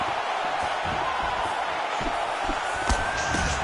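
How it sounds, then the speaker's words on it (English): A video game boxing crowd roars and murmurs in a steady wash of noise, with a few sharp thuds of punches and brief swells of cheering. "you hear the crowd react every time they come together"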